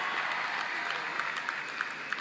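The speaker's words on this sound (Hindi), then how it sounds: "जोरदार तालियां ललित के लिए।" A crowd at a government ceremony in Lucknow honouring Olympic athletes gives sustained applause for hockey player Lalit Kumar Upadhyay, a steady rush of many hands clapping with a few sharper claps standing out near the end.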